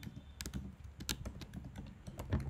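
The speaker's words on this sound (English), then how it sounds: "I'm going to type" Rapid, uneven keystrokes on a computer keyboard during a programming lecture, close and clear with no talking over them.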